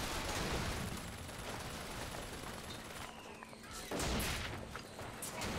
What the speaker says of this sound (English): I just have the turret shoot